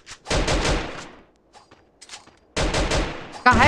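Rapid bursts of gunfire in Garena Free Fire crack out loud in two clusters of quick shots, separated by a quieter stretch of faint game noises.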